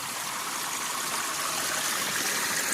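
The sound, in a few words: water flowing through a small channel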